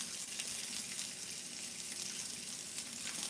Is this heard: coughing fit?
no